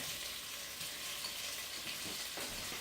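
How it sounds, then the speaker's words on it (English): Shrimp sizzling steadily in hot oil left over from frying capers, a continuous bright crackle with small pops, close and alone without talk. "So we're just going to drop that back into the oil that we cooked the capers in."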